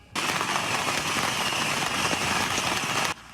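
At the Yanshui beehive firecracker festival in Tainan, a dense barrage of firecrackers explodes nonstop, a loud, crackling wall of bangs that starts suddenly and cuts off just as sharply about three seconds later.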